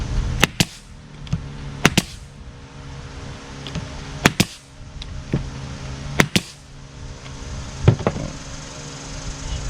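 A pneumatic nail gun drives nails into glued wooden flower box boards, firing sharp, separate cracks, some in quick pairs, over a quiet workshop background.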